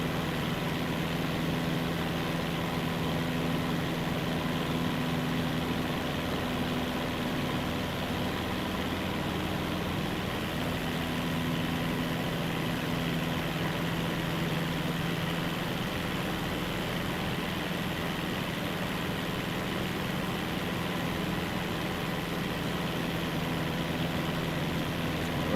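A small airplane's engine drones steadily at high RPM in cruise, a constant loud hum with a low tonal pitch that holds evenly throughout, with no talking.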